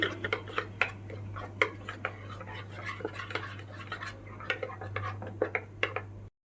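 Light metallic clinks and ticks of a spoon mixing ground spices and salt in a small bowl, quick and irregular, over a steady low hum.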